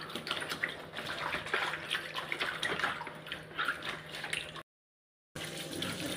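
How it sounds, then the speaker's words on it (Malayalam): Water splashes and sloshes nearby as bitter gourd is swished around in a bowl of water, cutting out briefly before the splashing resumes. "ഞാൻ വെള്ളത്തിലിട്ട് ഇതുപോലെ കഴുകി എടുക്കുകയാണ്"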